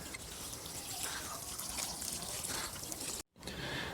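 Water is poured onto the soil around freshly transplanted tomato seedlings, a soft, continuous splashing trickle heard up close that cuts out briefly near the end.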